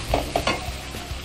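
Green gram lentils tipped into a hot pan over a low stove for payasam, with a few sharp clattering scrapes and a soft sizzle that rises and fades over a second.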